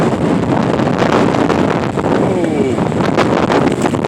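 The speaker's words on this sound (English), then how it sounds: "we are talking gusts of 50 plus miles per hour." Strong winter wind with gusts over 50 miles per hour roars loudly and continuously, buffeting the microphone at close range, and a voice can be heard under the noise.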